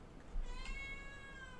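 A cat meows once in the World of Warcraft game, a faint, drawn-out tonal call over a quiet ambient background.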